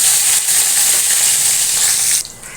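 A spoonful of cumin seeds sizzles in hot oil or ghee for potato bhaji, a close, loud, steady hiss that drops off sharply near the end.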